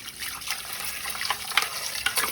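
Mutton paya legs rinsed with turmeric under a running kitchen tap, a steady close gush and splash of water with small surges throughout, no voices.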